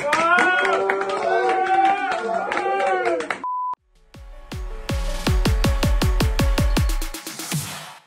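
Hand clapping indoors, a run of about a dozen sharp, evenly spaced claps heard close and loud, coming after someone speaks and a short electronic beep.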